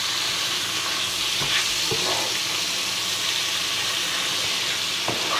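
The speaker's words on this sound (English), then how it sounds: "Now we're going to add in our spinach. I'm going to get all this coated in the mushroom and the garlic and the butter from the pan." Spinach stirred into a pan of mushrooms, garlic and butter, giving a steady close sizzle and hiss with a few soft scraping clicks of stirring throughout.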